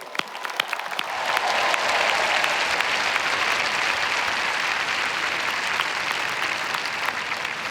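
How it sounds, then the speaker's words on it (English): Loud, sustained applause from a large audience at the Stanford University 2019 commencement, honoring the fathers on Father's Day. It swells within the first second and keeps a dense, steady roar of clapping to the end. "let's give the dads in particular a round of applause"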